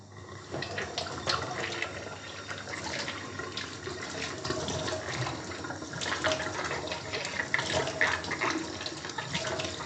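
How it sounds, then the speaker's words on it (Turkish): Running tap water splashes steadily while a baby bottle is rinsed at a sink, a continuous close, moderately loud wash of water with small irregular splashes and no talking. "Durulama çok önemli."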